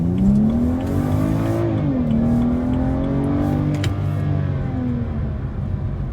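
A BMW with all-wheel drive revs hard in manual mode and climbs in pitch as it accelerates, shifts once, then keeps pulling with a steady loud drone from inside the cabin.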